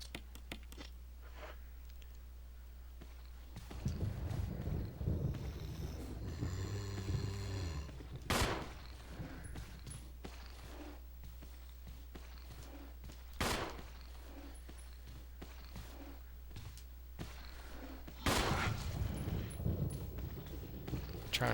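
Gunshots in the original Resident Evil video game: a few sharp, separate shots spaced several seconds apart over a low steady background hum, with bursts of other game noise between them.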